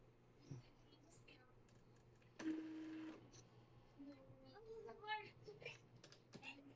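An Epson L3210 inkjet printer whirs and clicks through a head-cleaning cycle, with a brief motor drone, scattered mechanical ticks and soft speech in the room.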